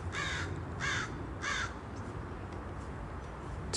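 A crow caws three times in a steady rhythm, clear and fairly near, then falls quiet against faint outdoor background.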